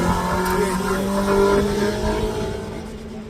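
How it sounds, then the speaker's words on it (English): Mazda MX-5 on the course at the Craigantlet hillclimb, its engine note holding steady and loud before easing off as the car moves away, with talk over it. "Paul McGill from Larne, his lovely MX-5 on the course at the moment"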